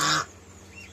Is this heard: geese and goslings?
yes